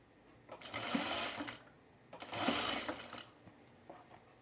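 A sewing machine stitches a shirt hem on a pullover camp shirt, running in two sustained bursts of about a second each with a short pause between, then a brief final pulse, close and steady.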